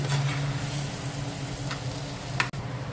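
Ground paste of curd, tomato, cumin, coriander and fennel seeds sizzles and fries in a pan for stuffed green chillies, a constant close crackle broken by a few sharp stirring clicks.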